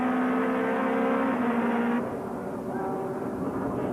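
In-car engine of a BMW E46 touring race car at speed during a 1999 touring car race at East London, a loud steady drone that shifts pitch partway through as the driver changes gear.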